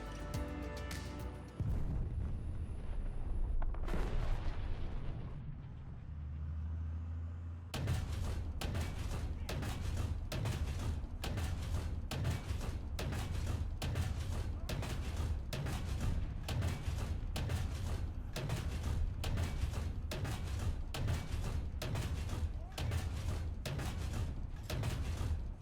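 Cannon fire from an RDF/LT light tank in War Thunder, hitting enemy tanks: a fast, steady run of sharp, loud shots repeating at even intervals, with engine rumble and battle noise underneath and no talk.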